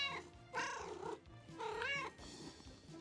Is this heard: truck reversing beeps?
no